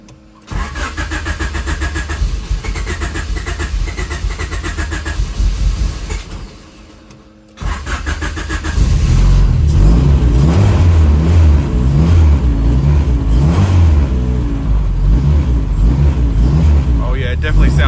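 A turbocharged Honda H22 engine fires up, cuts out briefly, then restarts and revs hard, its loud, steady roar filling the space, with people talking faintly underneath.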